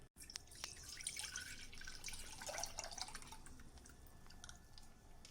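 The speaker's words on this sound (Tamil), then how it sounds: "இப்போ நான் பாலை கட் பண்ணி ஊற்ற போகிறேன்" Milk poured from a cut packet into a pan to make paneer with lemon, a continuous close stream of liquid splashing that swells through the middle and trails off into soft drips.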